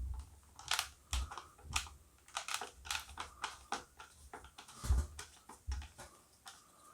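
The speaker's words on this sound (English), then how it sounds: "undo the screw on the back" A Dyson V6 cordless vacuum having its screws undone, a quiet run of small clicks and ticks from the screwdriver and plastic casing, irregular and close.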